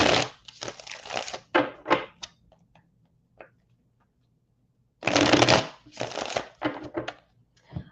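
Tarot cards are shuffled close up in several quick riffling bursts, each a crisp papery flutter, with pauses between bursts and a longer gap midway before two more rounds.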